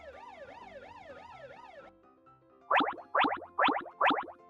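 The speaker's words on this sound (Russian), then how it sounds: "Конечно же, пожарная машина." A fire engine siren gives a rapid rising and falling wail, then pauses and sounds four loud, evenly spaced honking blasts.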